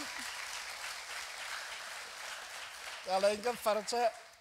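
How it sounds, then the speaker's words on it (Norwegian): Soft applause from the audience at a youth conference, a distant patter of clapping for about three seconds, then voices speak and hum briefly. "La oss klappe hverandre."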